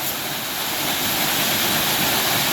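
Steady, loud rush of Debord Falls, a roughly 15-foot ledge-type waterfall in Frozen Head State Park whose couple of spouts pour into a large plunge pool, heard up close and unbroken.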